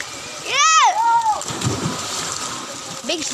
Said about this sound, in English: Big splash.